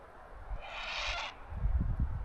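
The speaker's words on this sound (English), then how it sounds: "That's a noisy bird." Outdoors on a camping trip in the White Mountains, a bird gives one harsh, noisy call that lasts under a second. It sounds fairly close and stands out over quiet background, followed by low thumps.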